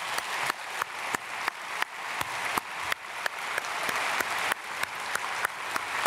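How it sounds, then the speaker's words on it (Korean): A church congregation at a special dawn service claps together in a strong, regular rhythm, with sharp unified beats at an even pace over a sustained bed of clapping, loud and close. "우리 영광의 박수 한번 올려드리겠습니다"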